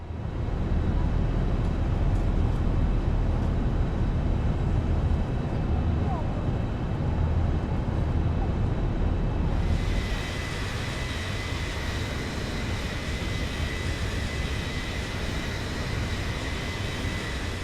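A Boeing 737-900 takes off in the flight simulator X-Plane 11, its jet engines giving a loud, steady broadband roar whose tone shifts brighter partway through.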